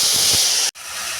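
Ginger-cumin paste with dried red chilli, bay leaf and five-spice seeds fries in hot oil in a pan, giving a steady, close broadband hiss that cuts out abruptly for a moment before resuming.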